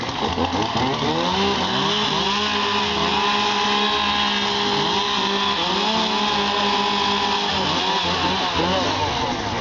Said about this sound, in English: get those saws warmed up